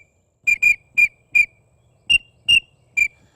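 Pintail duck whistle call, likely blown on a hand-held call: seven sharp, clean, high whistles, a quick double followed by evenly spaced single notes, loud and close against silence.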